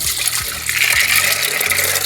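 Water is poured over soaked white peas in a cooking pot, a continuous splashing pour that stays fairly loud through the moment, with no talking.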